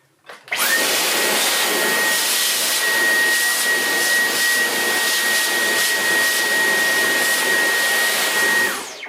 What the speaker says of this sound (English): I'm just sucking out any grime or hair. Any grime or hair or dust that's built up inside the key bed.